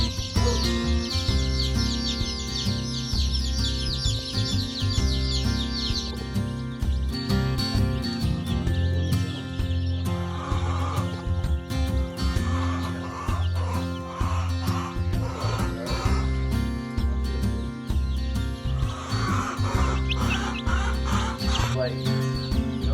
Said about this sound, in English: this is our giant brooder. Today is day 2 of baby chicks.